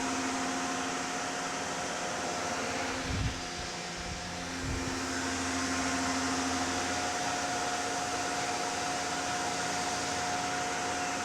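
A Tormach CNC mill runs a spring pass with a Lakeshore Carbide 5/16 three-flute end mill, making a steady whirring hum with a constant tonal whine and a few low thumps partway through.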